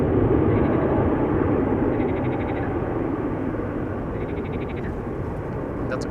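A Delta Airlines airliner departs the Polderbaan runway at Schiphol, its jet engines a loud, continuous broadband roar that stays heavy and steady and eases only slightly toward the end.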